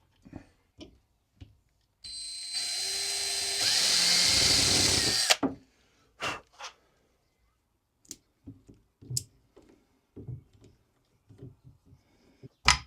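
A power drill bores a cable hole for the pickups through a fabric-topped Telemaster-style guitar body. One loud, sustained burst of drilling lasts about three seconds, followed by scattered clicks and handling knocks close by.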